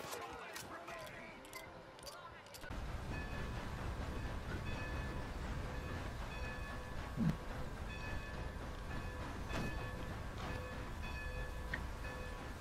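A train running in the video game Red Dead Redemption 2 sets up a steady, loud rolling rumble with faint rattling, starting after a short quieter stretch, while voices can be heard over it.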